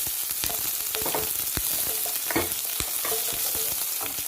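Onion frying in a little oil, a dense close sizzle with repeated spatula scrapes and taps in an uneven rhythm, fairly loud and continuous, no voices.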